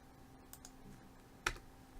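Computer keyboard keys clicked during 3D modeling of a die, a few light scattered taps followed by one sharper Enter key press, close and fairly quiet with no talking.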